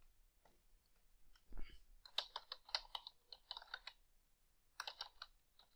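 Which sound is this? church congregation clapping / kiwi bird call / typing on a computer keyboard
typing on a computer keyboard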